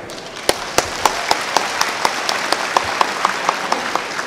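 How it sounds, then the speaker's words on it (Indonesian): Applause from an audience at an education expo (Expo Pendis) in Serpong, with a dense crowd patter and a few louder claps popping out at a steady rhythm, moderately near and unbroken by talk. "boleh kita sama-sama tepuk tangan"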